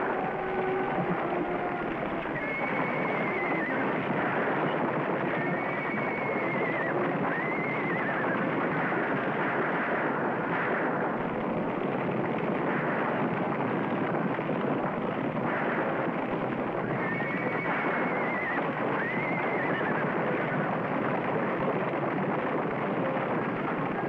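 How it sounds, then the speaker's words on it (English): Horses whinny repeatedly during a stampede in a wild horse valley, their calls rising over a steady, dense rumble of hooves and wind-like noise that fills the whole stretch. "Stampede! Take cover, Mr. McNabb!"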